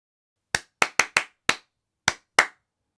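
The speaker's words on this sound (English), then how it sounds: "Listen to this rhythm and then clap it back." Seven sharp hand claps tapping out a short quarter-note rhythm for sight-reading practice, close and crisp with uneven spacing and clean silence between them, and no voices.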